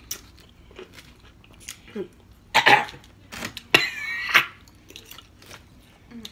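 Close-up biting and chewing of chicken, with several crisp crunchy bites and softer mouth sounds between quiet pauses; a person murmurs briefly.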